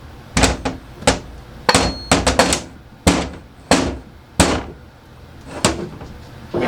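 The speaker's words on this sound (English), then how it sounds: "Just take the hammer and tap it" Hammer tapping a part on a Ford 9 inch differential during a spool and ring and pinion install, about a dozen sharp metallic knocks, some in quick doubles and triples, close and loud with brief pauses between.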